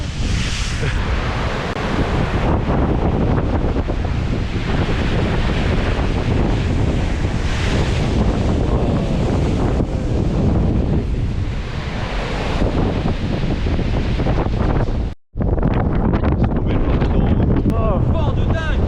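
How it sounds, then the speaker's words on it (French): Big ocean waves crash along the coast of Iceland amid strong wind buffeting the microphone, a loud, continuous roar of surf and gusts with a brief dropout near the end and people talking. "Il y a des grosses vagues."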